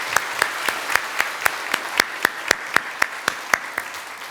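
A church congregation at a Sunday worship service claps in unison for two choirs, crisp rhythmic claps landing about four times a second at an even tempo over a low room hum.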